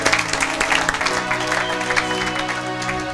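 A church congregation applauds during a French-language sermon, steady dense clapping at moderate loudness throughout with a faint sustained musical tone underneath.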